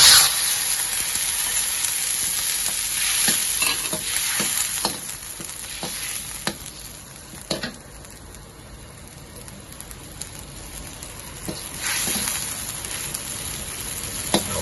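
Pork cubes sizzle steadily in a pan with dark soy sauce and a sauce mix, a continuous frying hiss broken by occasional sharper crackles and utensil scrapes, close and fairly loud.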